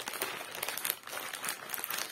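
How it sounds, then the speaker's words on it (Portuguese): A package bought online is torn open by hand, giving a steady close crinkling and crackling of plastic wrapping that rises and falls in short bursts without talk. "Mas bora rasgando aqui na mão mesmo."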